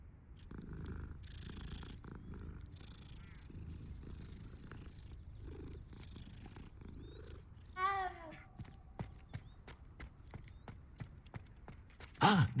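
A cat purrs in a Wizarding World video game, a soft, continuous rumbling purr heard up close for several seconds, with a few faint brief sounds near the end.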